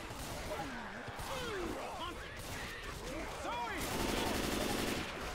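Gunfire in Left 4 Dead 2 on a survival map: a continuous spray of shots runs under chatter, growing denser toward the end.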